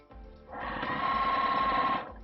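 A sewing machine stitches straight through three quilt layers of a patchwork table mat, one quick steady whirring run of about a second and a half that starts and stops cleanly in a quiet room.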